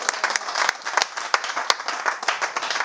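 Live audience at a zouglou gospel concert bursting into applause and cheers, a dense wash of clapping with sharp individual claps standing out throughout.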